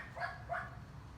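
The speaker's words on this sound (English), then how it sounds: "has a little doggy that likes to make a lot of noise." Two quick, high-pitched yaps from a neighbour's small dog, fairly faint and somewhat distant, against a low background hum.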